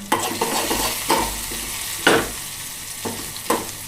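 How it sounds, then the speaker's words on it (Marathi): Onion, tomato, garlic, cumin and mustard seeds frying in oil in a pot, a steady sizzle broken by repeated scraping stirs of a spoon against the metal, close and clear. "आता आपण तेल टाकलं टोपामध्ये, लसूण, जिरं, मोहरी प्लस त्याच्यामध्ये कांदा, टोमॅटो वगैरे टाकले. आता जरा शिजू देतोय."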